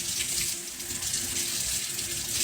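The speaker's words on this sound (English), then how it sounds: "you want to definitely make sure you rinse your steak." Raw steak being rinsed under a running kitchen tap, with a steady close hiss of flowing water splashing into the sink, fairly soft and continuous without voices.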